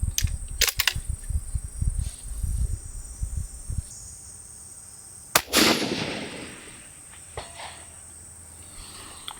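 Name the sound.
gunshot from a Thompson Contender rifle at long range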